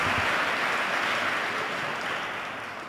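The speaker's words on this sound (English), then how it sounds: "Yeah, applaud now." A church congregation applauds during Mass on the feast of Christ the King: dense, steady clapping from a large crowd that fills the space and fades slightly toward the end.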